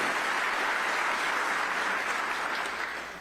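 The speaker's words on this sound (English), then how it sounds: "Let's give them a great round of applause." Steady, dense applause from an audience at a city mayor's State of the City address in Roanoke, continuous and full throughout before tapering slightly at the end, with no talk over it.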